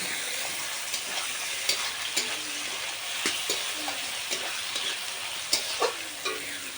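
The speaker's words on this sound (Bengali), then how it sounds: "শুক্তি মাছটি দিয়ে একটুখানি ভেজে নিতে হবে" Dried shutki fish fries in a pan with a continuous close sizzle and hiss, broken by irregular scraping and clicking of stirring, with a few louder taps near the end.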